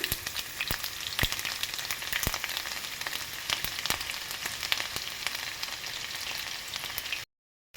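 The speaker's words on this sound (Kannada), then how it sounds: "ಸಾಸಿವೆ ಚಟಪಟ ಅಂತೇಳಿ ಹಾಕಬೇಕು" Mustard seeds and crushed garlic spluttering in hot oil for a mango pickle, a dense, close crackle with sharp pops scattered throughout, ending abruptly in silence.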